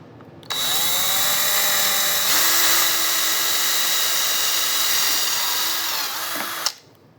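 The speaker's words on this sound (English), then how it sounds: "I just drilled through it, as you can see." A power drill whines loudly and steadily for several seconds, its pitch shifting slightly as it bites through epoxy, then stops.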